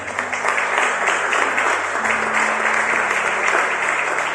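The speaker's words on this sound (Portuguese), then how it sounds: "dê um aplauso ao Senhor Jesus" A church congregation applauds during an evangelical worship service, steady dense clapping that fills the room for the whole stretch, with a sustained organ or keyboard chord droning beneath it.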